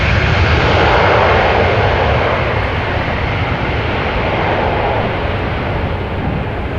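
Roaring jet engine noise from an Airbus A320-200 departing Amsterdam Schiphol Airport, loud and steady throughout with a broad rumble that eases slightly toward the end.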